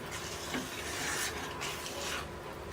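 Wheat payasam, a sweet made from broken wheat, being stirred in a pot with a spoon, giving a steady close scraping and rubbing with a soft bump near the end and no voices.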